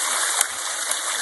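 Water rushes steadily through a gold-prospecting sluice box over riffles, a close, continuous hissing flow with a couple of small splashes and no voices.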